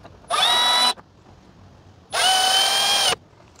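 A power drill drives a screw into a security camera mount in two loud, close bursts of whirring, the first short and the second about a second long, separated by a brief quiet pause.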